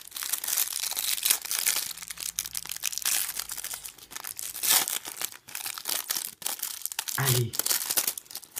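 Foil Yu-Gi-Oh card booster packs from a Duel Devastator box are torn and crinkled open close up, with bursts of crisp rustling and tearing, and a voice speaks briefly.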